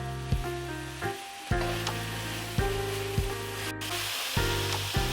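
Onions and aromatics for green pea fried rice sauté in a pan, with a steady, close sizzle interrupted every second or so by scraping stirs and small sharp pops, and no voices.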